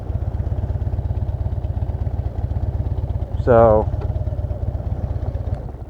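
A motorcycle engine idles steadily in a parking lot with a low, even putter, close by, and a brief voice cuts in partway through.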